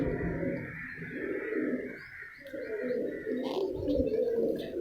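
A racing pigeon coos softly in a few low, throaty phrases at close range, with brief pauses between calls and some faint background sound.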